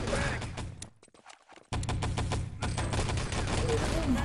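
Rapid automatic gunfire bursts from the Enemy Territory shooter game during a 3-on-3 LAN tournament match, loud dense rattling volleys broken by a brief lull, with game sounds and faint commentary underneath.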